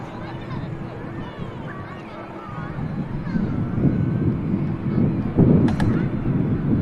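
An ATR turboprop airliner at Manchester Airport, a low rumbling engine drone that swells gradually louder toward the end, with wind buffeting and people talking faintly over it.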